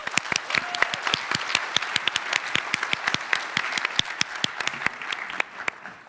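An audience at an open source awards ceremony claps for an award winner, loud sharp individual claps rising out of a steady applause over several seconds.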